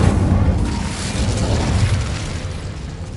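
The Incendio fire spell being cast in Hogwarts Legacy produces a loud, sustained roaring burst of flame with a dense rumbling low end, continuous and close for the whole stretch.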